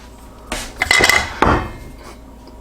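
A knife trims excess pie crust dough and drops it into a bowl, giving a few close metallic clinks and scrapes of utensil against dish over about two seconds.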